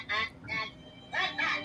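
A squawking, quacking voice like a duck's, in the style of the Martians from the film Mars Attacks. It comes as four short, nasal bursts in two pairs, close and fairly loud.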